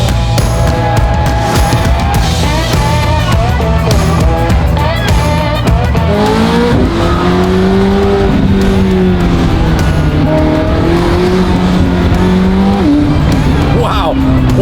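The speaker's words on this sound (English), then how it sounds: "What a car the 720 is." A McLaren 720S sports car roars loudly with rising and falling engine pitch and bursts of tire squeal, while someone talks over it throughout.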